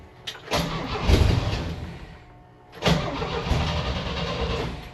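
A Volvo C30 engine is cranked twice: each time it catches quickly and settles into a rough, close idle, with a short quiet gap between the two starts.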